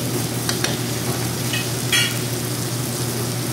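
Soy sauce going into squid adobo frying in a pan, a steady loud sizzle with a brief splash-like hiss partway through.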